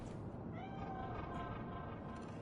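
A cat meows in a video game, the sound set against a continuous ambient game background of tonal drones and low rumble, with no talking over it.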